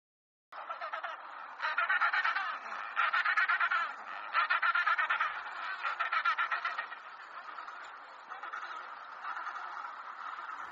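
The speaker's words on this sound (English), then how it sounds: "Penguin." A penguin calls in a long braying display: after a short silence, loud, close, repeated honking squawks come in pulsing bursts that gradually weaken over about ten seconds.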